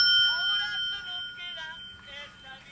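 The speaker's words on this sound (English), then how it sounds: "he can communicate by ringing a bell on his wheelchair" A small bell on a wheelchair rings in a tense dramatic scene, several light metallic dings ringing out in quick succession with a steady high tone underneath.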